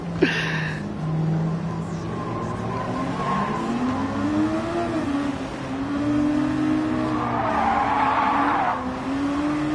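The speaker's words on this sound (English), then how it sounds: "Not even going fast and it just slides." Tires squealing as a car slides and drifts at modest speed in the Gran Turismo 7 racing game, with a steady engine drone under a long, wavering skid that swells loudest late in the stretch.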